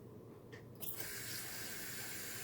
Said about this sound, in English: And then I'm just going to add some water to it.